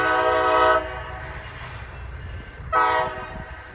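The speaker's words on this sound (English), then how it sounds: "The joy of living next to a train." A train passes close by a home, with two loud, steady horn blasts separated by a rumbling stretch of rolling rail noise, no voices over it.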